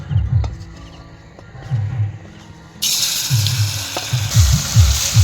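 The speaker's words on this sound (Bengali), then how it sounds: "তেল গরম হয়ে গেছে এবার এই পনিরগুলো ভেজে নেব তেলে" Paneer pieces going into hot oil for palak paneer: low handling thumps at first, then a loud, bright sizzling hiss that starts partway through and continues to the end.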